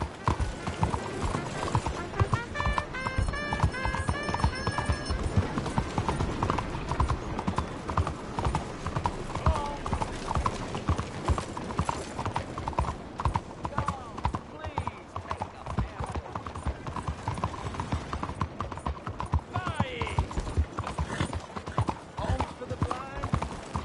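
Steady clip-clop of horse hooves trotting at a brisk rhythm, continuous throughout, with a brief whinny partway through, in the video game Red Dead Redemption 2.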